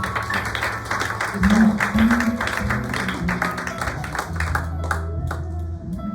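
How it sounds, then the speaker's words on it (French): Congregation in a church service clapping together, a dense rhythmic patter of many hands with singing or humming tones and voices mixed underneath, fairly loud and steady throughout. "Bien-aimé, applaudissez Seigneur."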